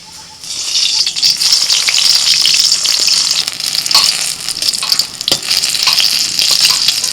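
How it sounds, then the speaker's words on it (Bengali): Eggplant slices fry in hot oil with a loud, steady hiss and crackle, broken by a few sharper pops and scrapes as they are turned. "উল্টে বেগুনগুলোকে একটু লাল করে ভেজে তুলে নিচ্ছি"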